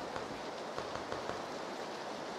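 Rain falls steadily in the PUBG battle royale video game as a dense, even patter with a few slightly stronger drop ticks. It is moderately quiet and heard alone, without talk.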